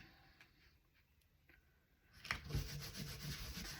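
Embossed white cardstock is rubbed and pressed down by hand; after a quiet start with faint taps, a close, dry rubbing and scraping sound begins and continues.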